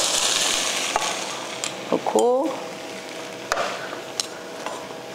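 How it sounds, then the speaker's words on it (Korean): Bracken fern (gosari) namul stir-frying in a pan, a steady close sizzle with a few clinks and stirring scrapes, a short squeaky scrape near the middle. "우리가 이 고사리 나물을 볶는 동안에"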